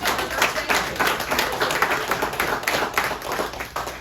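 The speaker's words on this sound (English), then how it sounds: "Can we give a round of applause to Andrea for pouring to others?" Audience applause at a birthday celebration during a real estate lunch-and-learn gathering, a steady patter of many hands clapping for about four seconds, moderately loud and close, with no talk over it.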